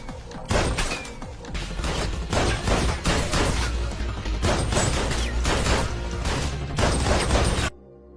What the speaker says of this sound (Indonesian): Avery harus beradu tembak dengan Brenzov dan inilah aksinya